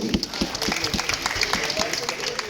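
Audience applause at a film event, a steady wash of many hands clapping throughout, with voices and crowd noise mixed underneath.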